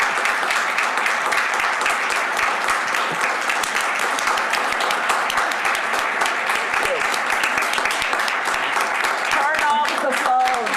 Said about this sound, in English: Let's stop and give a round of applause to our general manager.